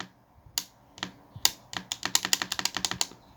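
Close key clicks from a Nubwo NJ-35 keyboard with a broken key spring, a few separate presses then a rapid run of sharp, rattly taps, loud against a quiet background.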